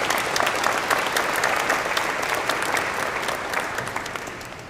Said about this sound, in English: Let's give Chief Shields a round of applause.